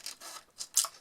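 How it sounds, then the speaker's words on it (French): Paper is snipped with scissors at close range, a few quick crisp cuts in an uneven rhythm. "Alors, ici, je vais couper"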